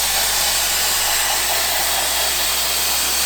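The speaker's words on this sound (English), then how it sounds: "It's sandblasting day." Sandblasting the body of a 1974 Dodge Challenger during restoration: a steady, loud, unbroken blast of rushing air and grit hiss that runs the whole time without pauses, with no voices.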